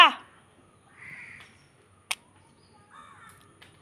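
A crow gives two harsh, drawn-out caws separated by quiet gaps, with a sharp click between them and a short noisy burst at the very start.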